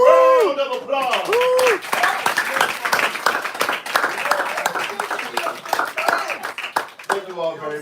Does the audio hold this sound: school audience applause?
yes